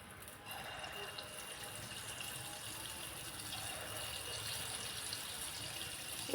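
Rice bonda batter frying in hot oil, a steady fizzing, bubbling sizzle that holds at an even level throughout, with faint background voices.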